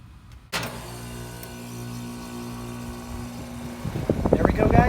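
A home air conditioner unit switches on after its test button is pressed, starting with a sudden thump and settling into a steady mechanical hum and whir that grows louder and rougher toward the end.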